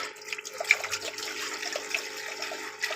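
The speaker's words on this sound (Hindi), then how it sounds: "पानी भरेंगे इस कैन से, फ़िल्टर वाला, क्योंकि अम्मी पीती हैं।" Water poured from a filter water can into a cup, a faint, close trickle running steadily for a few seconds with small splashy bursts and no talk.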